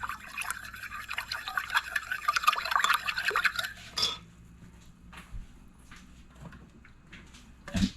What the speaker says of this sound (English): Going to give this a stir.